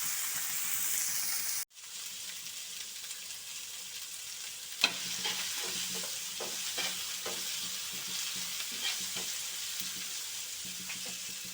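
Mutton frying in a pan with steady sizzling and occasional scrapes of a stirring spoon, a sharp click near the start, and no voices.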